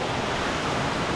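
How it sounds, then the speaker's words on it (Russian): Water roars continuously at the Gebius waterfalls near Gelendzhik, a close, loud, broadband rush with no pauses and no voices. "А здесь вот можно прям под водопад вообще встать"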